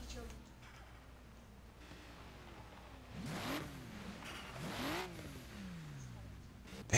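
A turbocharged car engine in a video game revs up twice in rising surges, loud and close, over a steady engine drone with faint talk in the background.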